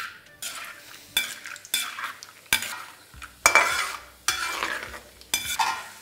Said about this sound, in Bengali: বাদাম ভেজে নেব।